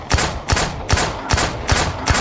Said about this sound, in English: it takes a lot of gunshots